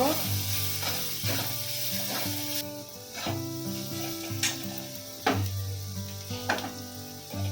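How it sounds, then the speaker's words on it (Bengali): Ground spice mix with black pepper and chaat masala frying in a pan gives a steady sizzle, broken by repeated sharp scrapes and taps of a spoon stirring, under faint background music. "এখন একটু ভাজা ভাজা করে নেব"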